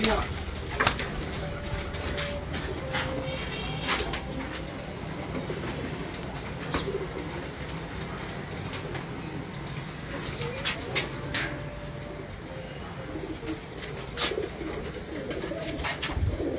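Pigeons kept in a home loft coo steadily at moderate distance, low throaty calls recurring over a constant noisy backdrop with scattered clicks and light human sounds.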